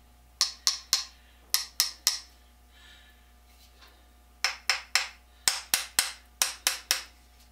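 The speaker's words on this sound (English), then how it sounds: "This little ball peen hammer is about 10 times bigger than what I really need." A small ball peen hammer taps metal parts in a workshop with crisp, close metallic strikes in quick clusters of two to four. A short pause falls midway, then a longer run of evenly spaced taps follows.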